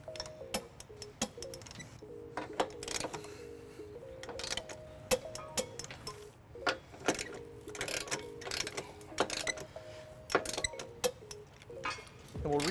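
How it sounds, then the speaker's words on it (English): A torque wrench on a 19mm socket with an extension tightens the bolts of a trailer hitch under a 2016 Infiniti QX60, giving repeated sharp ratcheting clicks in irregular bursts, close and fairly faint, with no talk over them. "Now we're going to tighten and torque all of our bolts to the manufacturer specification."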